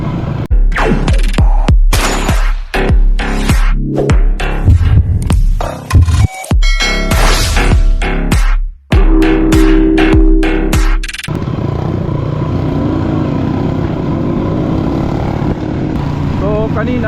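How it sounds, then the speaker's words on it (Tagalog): A Beta 300 RR dirt bike being test-ridden on a trail gives a loud, throbbing engine drone, choppy at first and then a steady rumble, with a voice talking over it. "Tapos tinetesting natin yung motor natin ngayon."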